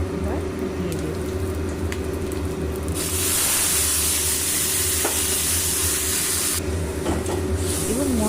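Ground spice paste drops into hot oil already tempered with cumin, bay leaf and dried chilli for a vegetarian potato and cauliflower curry, and a loud hissing sizzle surges for a few seconds before settling back to a gentler fry.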